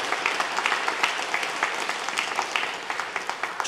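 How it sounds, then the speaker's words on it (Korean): Sustained applause from a church congregation at a Sunday worship service in Korea, a steady crackle of many hands clapping filling the room with no one speaking. "격려의 박수 한번 해주시면 좋겠어요."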